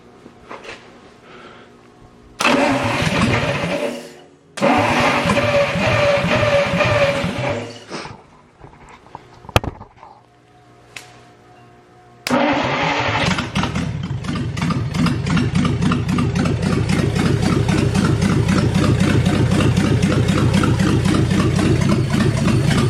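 A 1955 Dodge Hemi 270 engine cranks in two attempts, sputters and dies, then fires up and settles into a loud, steady, rhythmic idle close by.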